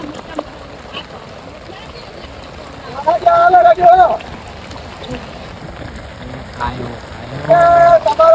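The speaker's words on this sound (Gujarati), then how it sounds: "ભારે વરસાદ હે" Steady heavy rain hisses throughout, with a few bursts of voices rising over it midway and near the end.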